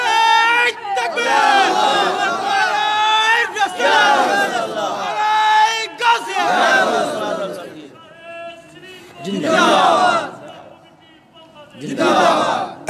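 A large crowd at an Islamic sermon (waz) shouts the takbir response 'Allahu Akbar' in loud, repeated bursts, alternating with a preacher's amplified voice, forming a rhythmic call-and-response.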